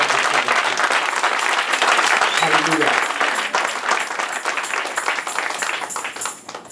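A church congregation applauds in worship, a dense wash of clapping hands that stays loud and steady throughout, with voices mixed in underneath and a brief sung or shouted tone near the middle.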